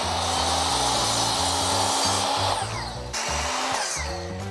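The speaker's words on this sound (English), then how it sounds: "I'm gonna cut a couple of these dowels" Wooden 2x2 dowels being cut with a power saw, a loud continuous whining buzz with pulsing tone that drops in pitch and loudness partway through as the blade bites, then trails off near the end.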